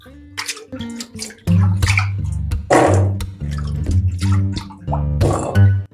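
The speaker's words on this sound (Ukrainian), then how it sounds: "тепер воду цю треба злити і добряче, добряче гарбуз промити." Soda water drains off pumpkin pieces that soaked overnight, then the pumpkin gets a thorough rinse under running water, with loud splashing and pouring in uneven surges and a steady tonal hum behind them.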